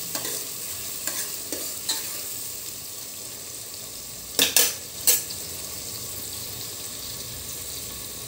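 Onions stir-fried in a pan for a mutton and potato curry: a low, continuous sizzle with a few light stirs early on, then a sharp burst of clattering utensil scrapes near the end.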